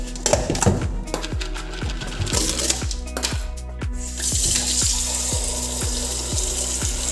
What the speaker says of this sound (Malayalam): അപ്പോൾ ഇതേ ചിക്കൻ നമുക്കിനി എടുത്തിട്ട് വെള്ളത്തിലിട്ട് വയ്ക്കാം.